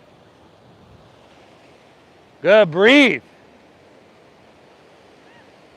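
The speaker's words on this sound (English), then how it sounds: "See if you can make your breath just as smooth as those waves rolling in" Small, gentle ocean waves roll in steadily at Pacific Beach, a soft continuous wash of surf in the background while someone speaks briefly in the middle.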